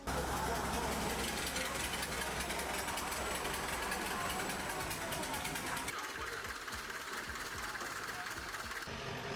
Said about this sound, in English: I took the boat. It was about a 10-minute boat ride. Way too loud to talk